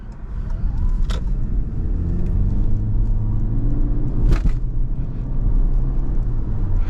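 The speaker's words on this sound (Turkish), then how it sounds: "şu anda tamamen benzinli bir motora geçmesine rağmen e, gayet sessizdi" Quiet interior drone of a Toyota C-HR hybrid with its 1.8-litre petrol engine running, a steady low rumble and road noise throughout with no talking.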